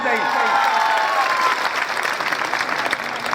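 Audience at a patriotic Hindi speech event applauding loudly to welcome a young performer, dense steady clapping throughout with a voice speaking over it at the start.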